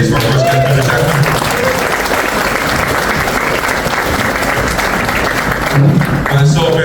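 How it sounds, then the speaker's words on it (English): Sustained applause from a seated audience at a chamber president's business lunch, dense clapping filling the room, with a voice briefly heard at the start and end. "give a big round of applause please for our first guest, Jackman"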